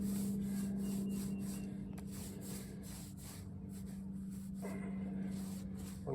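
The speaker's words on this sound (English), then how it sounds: "you can take a brush and just lightly skim it" A brush lightly skims wet paint on a repaired boat hull, making soft, rhythmic rubbing strokes over a low steady hum, close and fairly quiet, with no voices.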